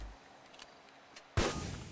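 Artillery shells are fired in the video game GTA 5: faint distant pops, then one sudden loud, heavy boom that leaves a rumbling tail.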